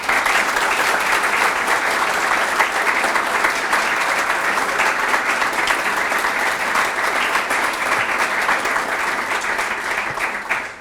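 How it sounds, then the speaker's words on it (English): An audience at a medical center graduate medical education graduation ceremony applauds steadily and evenly for the whole stretch. The clapping is dense and sustained at a moderate level, with no voices rising above it. "Please join me in giving a round of applause as we recognize and honor our remarkable Mentor of the Year, Dr. Robert Dominguez."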